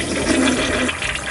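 A toilet flushes after its lever is pressed in a bathroom in New York, a steady rushing gush of water close by that runs through the whole moment with no talking.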